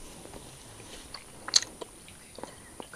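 A single crisp crunch of brittle candy being bitten, with a few faint chewing clicks around it in a quiet room.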